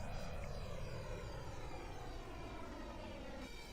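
Aircraft engine in the flight game Aeronautica, a loud, steady roar with shifting whine, continuous and close throughout with no talk.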